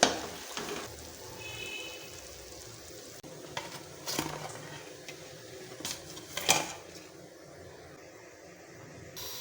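Samosas deep-fry in hot oil until golden, a steady crackling sizzle broken by a few sharp clinks of a metal utensil against the pan, with no talking.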